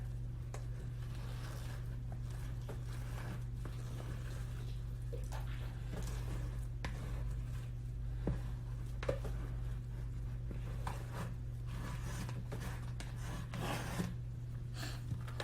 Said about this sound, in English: I'm just going to scrape the sides of the bowl to make sure I get all the last bit of it mixed in good.